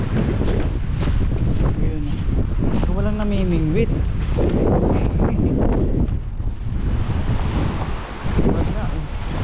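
At Weymouth Beach, New Zealand, strong wind pounds the microphone in a loud, continuous rumbling gust with waves in the background, and a voice cuts through it briefly.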